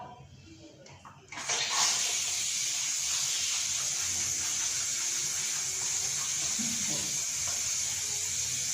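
Water runs steadily with a broad hiss from a tap or shower, rinsing a dog continuously after a brief quieter start.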